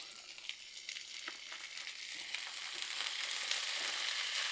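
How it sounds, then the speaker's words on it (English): A pack of Lil Smokies sausages sizzles on a hot Blackstone griddle, a soft, even crackling hiss that swells slightly as it goes, with scattered small pops, fairly quiet and heard alone. "So I got a whole little pack of them right here. We're just gonna dump them straight on."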